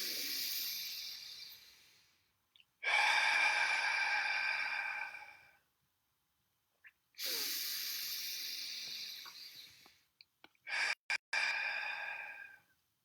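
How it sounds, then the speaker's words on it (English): Deep breathing exercise with long, breathy exhales through the mouth, three extended airy breaths separated by pauses, close and alone, the last broken into short puffs. "Deep, deep breathing."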